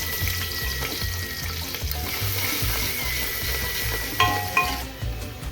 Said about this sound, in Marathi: आता हे तेल तपलं आहे तरी आपण याच्यात आता कांदा आणि मिरची सोडणार आहोत